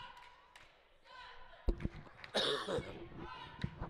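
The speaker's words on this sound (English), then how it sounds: "Just can't seem to push this cough away." A single cough stands out among muffled voices and background noise in a large, echoing gym during a girls' high school basketball tournament game.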